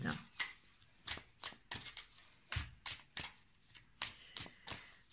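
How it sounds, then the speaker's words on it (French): Osho Zen tarot cards are shuffled and drawn at close range, producing a run of quick, crisp riffling and slapping bursts in an uneven rhythm, fairly quiet, with no speech over them. "Donc là, je vais tirer 2 cartes."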